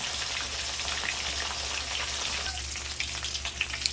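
Fish sizzling in hot cooking oil in a pan, a steady, fairly quiet crackle and spatter that runs throughout with small pops near the end and no talk.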